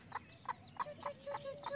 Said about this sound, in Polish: Tak się denerwuje kurka, że chcemy zabrać.